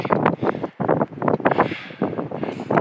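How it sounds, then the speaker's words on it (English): Wind gusts over an exposed mountain trail on the route from Tuttle Creek to Mt. Langley, buffeting the microphone in loud, rough bursts with brief lulls between them. "Gorgeous day, a little bit windy."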